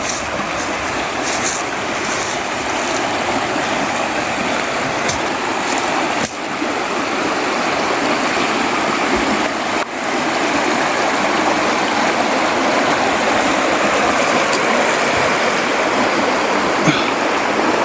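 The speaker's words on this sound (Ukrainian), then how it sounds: "І бачите, яка классная речка!" The Vyznytsia river near Mukachevo in Zakarpattia flows as a mountain stream, its steady, full rushing and gurgling water filling the scene loudly and continuously, with no voices heard.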